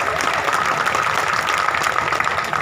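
Audience applause for great men, a dense, steady burst of many hands clapping at close range, loud and continuous throughout.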